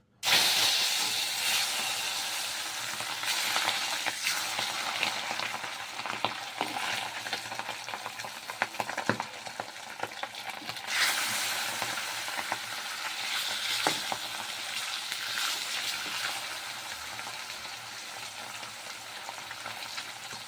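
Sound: fish frying in hot oil in a kadai

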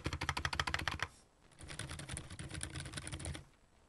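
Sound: typing on a quiet mechanical computer keyboard

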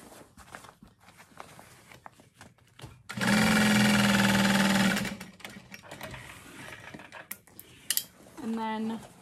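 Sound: sewing machine stitching handbag seam

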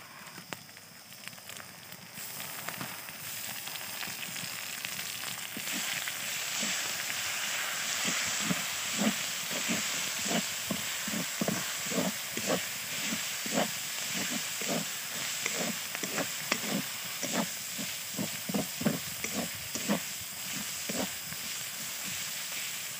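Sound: garlic paste frying in a pan for chicken curry

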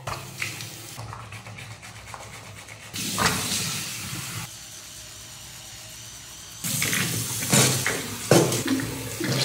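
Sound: water running from tap over a pan

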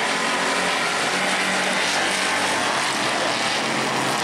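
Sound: race cars racing on track at New Smyrna heat race

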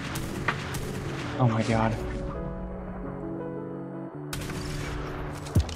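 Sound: shotgun gunfire in ARK video game

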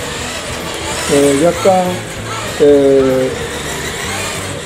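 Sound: radio-controlled Ultima model car accelerating with throttle raised

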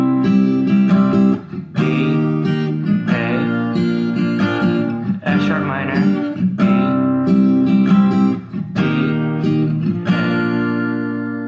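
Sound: guitar strumming chorus chords with capo

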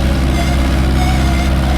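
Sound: tractor engine idling in Farming Simulator 25 video game

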